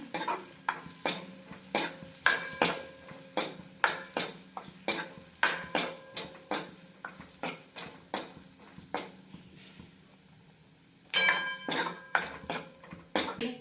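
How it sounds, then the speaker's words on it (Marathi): Grated coconut frying in a pan until reddish for rice kheer, stirred with a utensil that clinks and scrapes in a steady rhythm over a soft sizzle, pausing briefly before the stirring resumes. "खोबरं व्यवस्थित होऊ द्यायचं लालसर"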